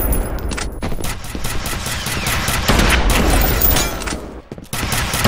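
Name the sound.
gunfire in the video game F.E.A.R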